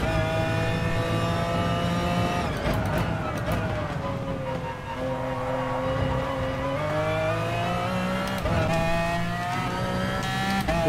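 Race car engine in the GT Sport video game, a steady high-pitched drone with rising and falling revs and gear shifts, loud and continuous throughout.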